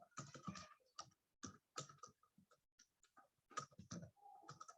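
Code is typed on a computer keyboard in quick, close bursts of key clicks with short pauses between runs, soft and steady throughout.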